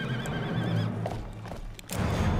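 A horse in a video game neighs loudly, a drawn-out whinny over game ambience with low rumbling, followed by a few snorts and clattering sounds.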